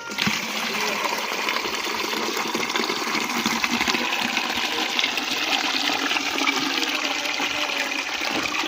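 Water gushes forcefully and steadily into an 18–20 litre bucket, a loud, close, continuous rushing fill without breaks.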